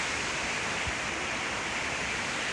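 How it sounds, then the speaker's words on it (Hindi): A waterfall near Neelkantheshwar in Rishikesh, a steady broadband rush of falling water filling the whole stretch at moderate level without voices. "ऊपर से झरना आ रहा है"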